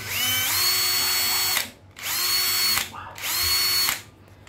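A Japanese-market cordless battery drill runs up to a high steady whine three times, each burst lasting over a second with brief pauses between, loud and close with no talking.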